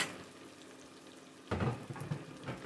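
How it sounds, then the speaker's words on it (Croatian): Onions sautéing in a pan on a home stove give a soft, faint hiss at first. A sudden louder crackling sizzle with small pops follows partway through. "Pogledajte kako se luk lepo dinsta"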